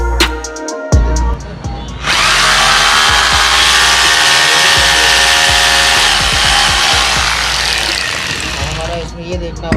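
A rotary hammer drill being tested for its drill and hammer modes runs loud and steady for about eight seconds after a brief startup, then winds down near the end, with the motor whine and grinding continuous throughout.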